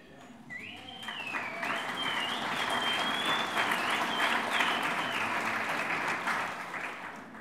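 Steady applause from a large audience at a pro-life political speech fills the space, holding loud and even for several seconds with a faint whistle-like tone over the top.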